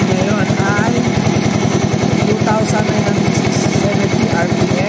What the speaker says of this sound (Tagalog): Ito yung pump. Enduro pump.